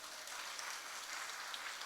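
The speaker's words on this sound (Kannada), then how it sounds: "ಚಪ್ಪಾಳೆ ಹೊಡಿಬೇಡ್ರಿ" Steady applause from an audience at a Kannada religious discourse, dense and continuous throughout, moderately distant with no talk over it.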